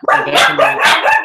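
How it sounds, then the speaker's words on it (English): Dogs bark indoors during a live stream, several loud, close barks and yips coming in quick bursts over about a second, with no talk over them. "Sorry about the dogs, everyone."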